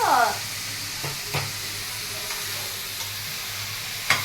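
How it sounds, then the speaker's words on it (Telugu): Okra fries in oil in a pan for a Telugu pulusu, giving a steady close sizzle throughout with a few soft stirring clicks and a brief scrape at the start. "ఆయిల్లోనే ఒక 5 మినిట్స్ ఫ్రై అవ్వాలి బాగా"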